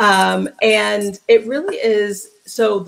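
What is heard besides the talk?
No everyday noise stands out behind the speech.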